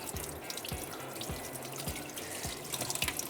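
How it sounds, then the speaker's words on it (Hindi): Hands being washed under a running kitchen tap while cooking beef fry kebab, a steady splashing stream with soft rhythmic thumps of water hitting the sink, fairly quiet. "यहाँ हाथ अगेन मैं धो लूँ"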